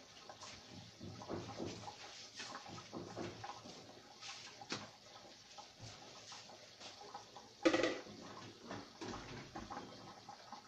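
Water pours steadily into a container to mix a guava and red currant drink, about two litres, a continuous splashing wash with a brief louder gush near the end.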